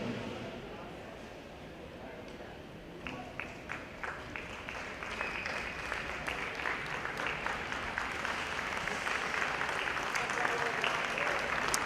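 A crowd at a Masters athletics track applauding a bronze medallist, the clapping building from sparse claps to a full sustained ovation, heard alongside a commentator's voice.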